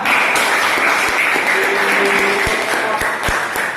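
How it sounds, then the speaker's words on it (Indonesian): Loud, sustained applause from a class group, a dense wash of clapping that runs throughout. "Beri tepuk tangan."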